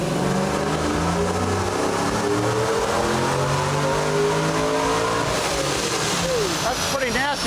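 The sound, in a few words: supercharged Trailblazer SS engine revving during dyno run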